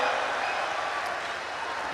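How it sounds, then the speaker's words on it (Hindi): An audience at a Hindi comic poetry gathering claps in a brief, steady burst of moderately loud applause that fills the room. "सर इस पे तो अधिकारी भी ताली बजा रहे हैं।"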